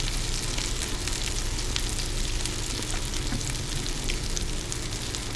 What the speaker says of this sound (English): Turn the heat down to medium. Let it simmer a few minutes.